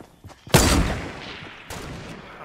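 Fortnite gunfire: a sharp, loud shot bursts out and rings off into a decaying roar, followed by a second, slightly quieter blast a moment later, with faint earlier pops.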